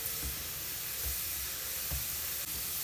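Garlic sizzles in hot oil in a pan on a gas stove while being stirred for a mango pickle, a steady close hiss with soft periodic low thumps of the stirring.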